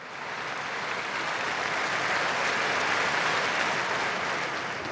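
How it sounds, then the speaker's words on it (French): A large crowd of pilgrims gathered for the Angelus in Rome applauds a newly beatified woman, dense sustained clapping from a wide open space, steady and loud throughout. "Je vous demande d'applaudir la nouvelle bienheureuse"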